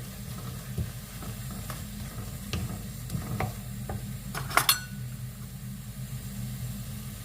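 A spoon stirs salt into mint chutney with soft, scraping clicks and a few sharper knocks against the bowl, quiet and close, over a low background rumble.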